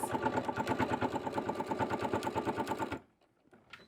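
A sewing machine runs a fast, even rhythmic stitch along a quarter-inch seam on a dish-mat crossbody bag, backstitching, then stops abruptly, leaving near silence.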